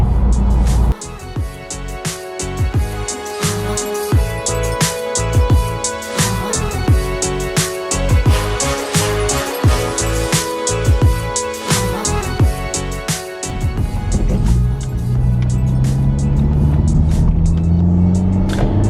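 A Honda Civic Type R is driven: a loud engine drone from inside the car, rising and falling with shifts and pulsing rhythmically, then settling into a steadier cruise near the end.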